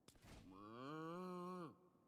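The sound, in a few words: cow mooing in the video game Diablo IV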